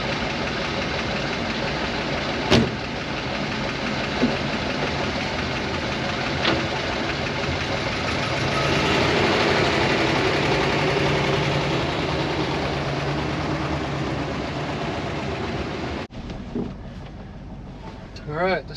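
A V8 in a Ford Fairlane survivor car, pulled from a barn after sitting over 25 years, runs steadily with a knocking, rumbling idle and a few clunks and knocks. A voice speaks over it, and the engine cuts out near the end.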